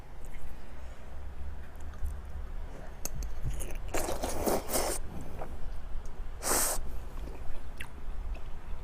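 Someone eats malatang with enoki mushrooms and Chinese glass noodles, the chewing coming close and soft under a low steady background, broken by a few louder wet crunchy bites.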